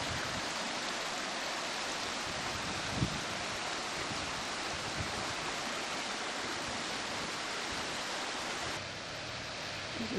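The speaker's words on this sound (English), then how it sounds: "There's the waterfall right in the town of Warwick." Waterfall in the town of Warwick, a steady broadband rush of falling water holding constant and loud throughout, close by with no talk.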